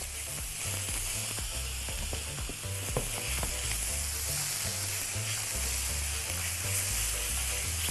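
Garlic and vegetables sizzle and crackle steadily in a hot pan while being stirred, with scraping clinks of a utensil and a low tonal hum running underneath throughout.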